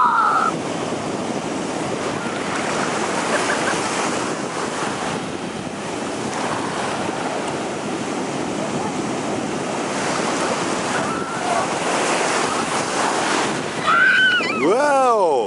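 Ocean waves wash and break on a shore in a steady, full roar with gusty wind buffeting the microphone throughout; a brief whistling tone sounds near the end.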